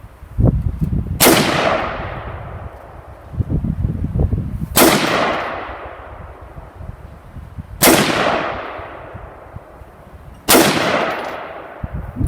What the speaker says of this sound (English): we're going to go ahead and just do 4 more shots so we can see what a 5-shot group looks like